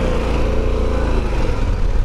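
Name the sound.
Harley-Davidson Pan America motorcycle engine while riding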